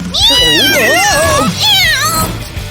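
A cat meows loudly and close, two drawn-out, rising and falling calls, indoors.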